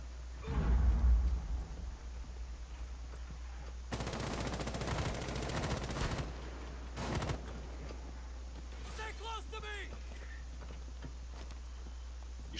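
Gunfire in Rainbow Six Siege aimed at a cap can on a window: a dense rapid burst of shots in the middle, a short burst after it, then fainter clattering impacts over a constant low hum.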